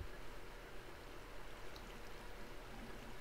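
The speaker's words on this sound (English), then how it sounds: "I just rode down a waterfall" Continuous rushing water of a Minecraft waterfall, a steady broadband roar with no breaks, close and fairly loud throughout, with no talk over it.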